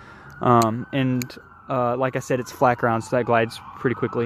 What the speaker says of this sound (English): I apologize for the noise. Let me pause and I'll resume after the sirens.